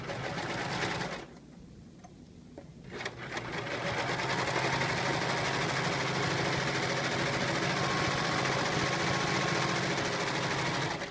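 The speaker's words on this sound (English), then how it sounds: "start a chain stitch going, and then add your fabric" Serger sewing machine stitching a narrow rolled hem, a fast, steady mechanical whirring with a brief pause near the start before running on continuously and close.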